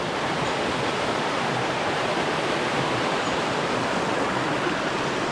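Kohler waterfall in São Bento do Sul, Brazil, heard close from its slippery rocky base as a constant roaring rush of falling water, broad and unbroken from start to finish.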